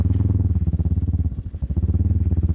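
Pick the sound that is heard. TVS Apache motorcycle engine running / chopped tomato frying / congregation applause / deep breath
TVS Apache motorcycle engine running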